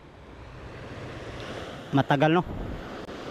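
Rough sea and gusting wind on a shoreline during Typhoon Pepito, a steady broad roar of surf and wind buffeting the microphone, with someone briefly speaking over it midway.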